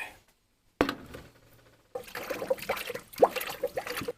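Water is poured from a container into the bone-dry radiator of a 1967 Plymouth Fury barn find. The liquid comes in irregular gurgling glugs and splashes, with a brief splash first and then a longer uneven stream of sloshing.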